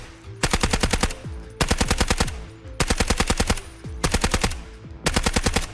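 SMG45 submachine gun in the shooter game Delta Force firing five loud, close bursts of about six rapid shots each, separated by short pauses.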